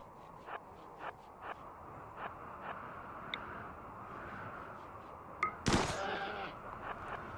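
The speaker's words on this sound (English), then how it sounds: "So let's shoot it in the face." A single gunshot fired at an animal during a hunt in the colony game RimWorld, a sharp broadband crack standing out once above a quiet ambient bed with faint periodic footstep-like taps.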